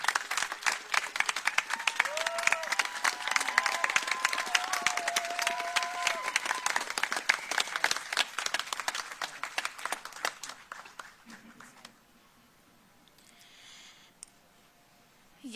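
A rally crowd in Nashville breaks into loud applause and cheering to welcome a speaker, steady clapping with raised voices that gradually thins and fades out, leaving a quieter room with faint murmurs near the end.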